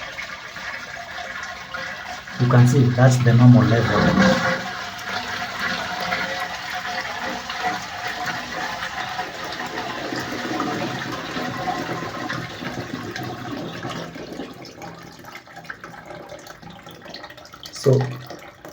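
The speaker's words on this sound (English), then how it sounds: "If I flush this toilet" A household toilet with an overflowing tank is flushed, a loud rush of water followed by a steady hiss of the tank refilling, while someone talks briefly nearby.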